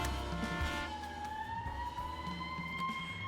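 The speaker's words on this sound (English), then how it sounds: "Turn on the sirens, Mulligan." A police car siren from the video game This Is The Police 2 wails in a rising and falling electronic tone, continuous and moderately close throughout.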